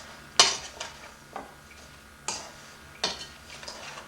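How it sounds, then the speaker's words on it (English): A spoon stirs apple pie filling thickened with flour in a bowl, making a few sharp clinks and scrapes spaced irregularly and heard up close, with no talk over them. "I'm going to stir this up very well"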